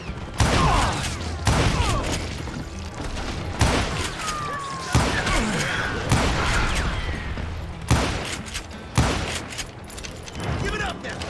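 Loud gunshots in the Wild West shooter Call of Juarez: Gunslinger, sharp cracks arriving every second or so among thuds and mechanical clatter, with voices talking between shots.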